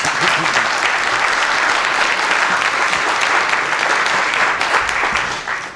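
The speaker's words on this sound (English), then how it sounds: "Please give them a warm applause." Sustained applause from a large audience for a panel discussion, dense and steady clapping that fills the whole stretch before tapering slightly at the end.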